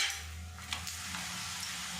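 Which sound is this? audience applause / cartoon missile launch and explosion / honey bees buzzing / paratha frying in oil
paratha frying in oil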